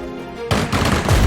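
Video game gunfire bursts in abruptly after a brief quiet moment, a loud, dense rattle of rapid shots that continues to the end.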